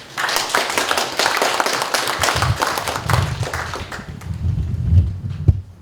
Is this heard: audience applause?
yes